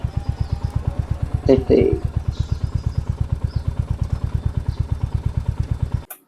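A motorcycle idles close by with a fast, even engine putter while being parked outside a shop near a temple in Devprayag, with a brief clatter partway through, before the engine cuts off at the end.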